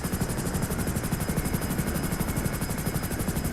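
A Buzzard attack helicopter in GTA Online gives off a loud, steady, close rotor drone with rapid rhythmic chopping and a bright high whine, running the whole time with no talk.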